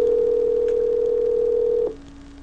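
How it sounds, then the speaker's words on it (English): Skype call dial tone: a steady, loud electronic tone holding without a break for nearly two seconds, then dropping abruptly to a quieter lingering hum. "anyone familiar with Skype, familiar with the dial tone here"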